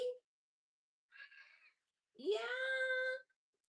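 A cat meows in three separate calls: a brief one, then a short softer call, then a long, loud, drawn-out meow, all close by with silence between.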